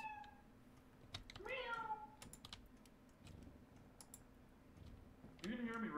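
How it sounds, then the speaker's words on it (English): A house cat meows several times at close range, drawn-out rising cries, over steady computer keyboard typing, with a voice chatting briefly. "This cat's name is Socks."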